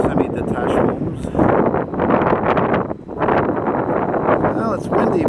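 Gusty wind buffeting the microphone in a loud, continuous roar that rises and dips, with a person speaking underneath, on a street of semi-detached homes in Ahuntsic, Montreal.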